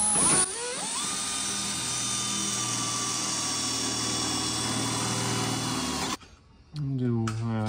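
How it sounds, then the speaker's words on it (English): A power drill whines at a high, steady pitch as it bores into original car body sheet metal for several seconds, then stops and a voice speaks. "the scariest part of everything is when you gotta drill original sheet metal"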